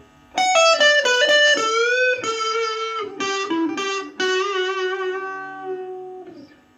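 Electric guitar played with distortion through a Stranger C15 beginner amplifier, a loud run of sustained overdriven notes and chords with bright harmonics, closing on a short fading note.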